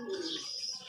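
Pigeons cooing on a rooftop, a soft low coo with faint chirps above it, fairly quiet and heard alone over light background noise.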